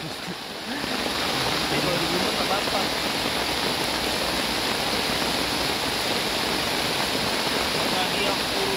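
Steady rain falls outdoors among bamboo, a dense, even broadband hiss that fills the whole clip at constant loudness, with indistinct speech faintly underneath.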